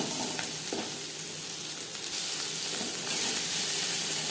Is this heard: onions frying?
yes